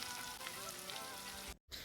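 Chopped onions frying in hot oil with black cumin, bay leaf and garam masala for a hilsa fish curry, giving a steady, fairly soft sizzle that crackles evenly and then cuts out briefly before resuming.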